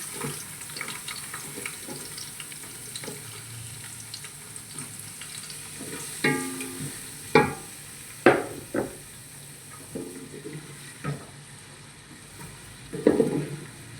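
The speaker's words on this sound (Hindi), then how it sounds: "इसके लिए सबसे पहले हम घी में प्याज डालेंगे।" Onions frying in hot ghee in a pan for a matar gosht, a steady close crackle and hiss with occasional louder pops and stirring scrapes, no voices.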